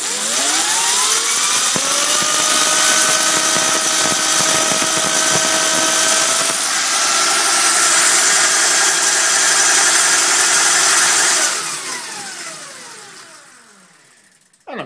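The alternator on a BMX test bike runs at a steady, loud whine with rising tonal harmonics as it spins up. It holds near constant for about eleven seconds, then winds down, and no one talks over it.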